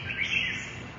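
A red-whiskered bulbul from Nghệ An sings a single brief, faint chirping phrase over a steady background hiss.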